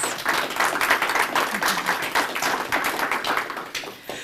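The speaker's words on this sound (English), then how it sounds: "So let's give them a round of applause too," Round of applause from the audience at a city commission candidate forum, many hands clapping in a fairly close, lively burst that holds steady for several seconds before thinning out near the end.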